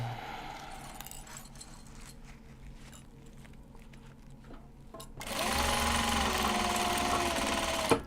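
Sewing machine sewing fabric bags, starting with scattered clicks and light handling rattles, then breaking into a loud continuous stitching drone for the last few seconds.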